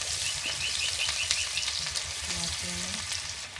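Whole spices, green chilli and onion sizzling in hot oil for a Bengali tempering, a steady bright crackle with stirring, close and continuous, with faint bird chirps in the background.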